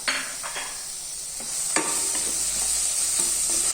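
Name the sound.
frying mint leaves and slit green chili for egg curry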